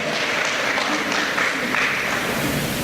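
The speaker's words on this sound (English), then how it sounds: "Give a clap for that, man." Audience at a creative business launch event in Trinidad and Tobago clapping steadily, a dense even wash of applause lasting throughout without pauses.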